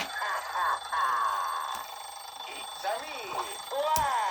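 Electronic alarm clock ringing from a WarioWare Nintendo DS game, a bright repeating warbling chime that keeps going steadily, with someone talking over it.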